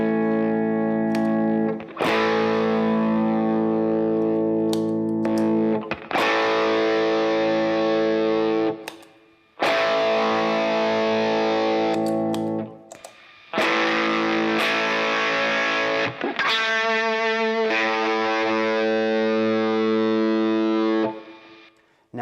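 An electric guitar strums one chord at a time, first clean and then through drive pedals, each loud chord ringing for a few seconds with brief gaps, growing thick and saturated.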